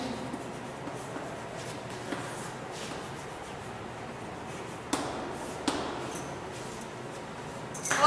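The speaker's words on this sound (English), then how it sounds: "let me just write the formulas used today" Formulas being written on a board during a physics lecture: soft, faint scratching and tapping strokes in a quiet room, with a few sharper taps scattered through.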